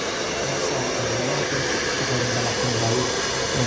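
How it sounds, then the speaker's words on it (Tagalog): A hair dryer blows steadily on a salon customer's freshly cut and colored hair, a loud continuous whooshing hum with no talking over it. "Blower pa more para maganda."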